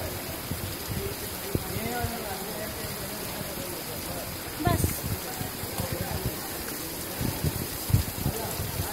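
First rain of the season patters steadily outdoors, a soft continuous wash with a brief louder burst midway, while people talk nearby.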